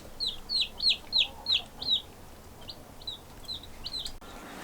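Young chickens in a brooder peeping: a quick run of six loud, high chirps close by, then softer, sparser calls trailing off.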